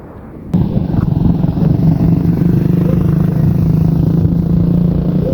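A BMW 3 Series car passes close by on a road, a steady loud engine rumble and tyre roar that sets in abruptly and holds through to the end, with no talk.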